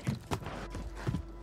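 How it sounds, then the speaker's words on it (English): Footsteps overhead in Call of Duty Warzone on Rebirth Island, a few soft muffled thuds in quick uneven rhythm, faint and close, with no talk. "I hear some footsteps above me"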